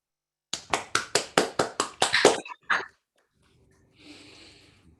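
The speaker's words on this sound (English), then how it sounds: "Let's just take a moment to applaud the first performance of Simangele's work" Brief clapping from a small audience after the premiere of a new work, about nine sharp, evenly spaced claps, then a short pause and a softer, scattered patter.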